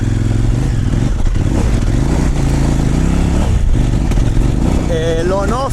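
A Kove 800 X Pro adventure motorcycle engine on throttle on a narrow dirt trail gives a close, steady droning note that rises and falls with throttle changes, climbing to a higher whine near the end.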